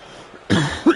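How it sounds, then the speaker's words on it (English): A person coughs twice, a muffled burst followed by a shorter, sharper one, close and fairly loud, during commentary on a simulated NBA 2K22 basketball game. "Pardon my coughing."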